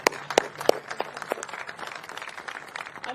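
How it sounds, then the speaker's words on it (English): Scattered applause from a press conference audience for ring announcer Michael Buffer ahead of a light heavyweight title fight, with sharp distinct claps at first that thin into a softer patter of crowd noise. "Let's get a round of applause for Michael Buffer"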